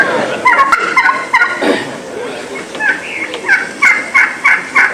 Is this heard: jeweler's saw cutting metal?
no